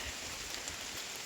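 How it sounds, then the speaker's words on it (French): Steady rain patters on a muddy trail, a continuous hiss of drops with no voices, even and close throughout. "Il pleut, c'est de la gadoue"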